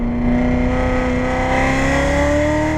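A Chevrolet Corvette C7 Z06 on a race track powers out of a corner, its loud engine drone rising steadily in pitch as it accelerates, heard close from inside the car without talk.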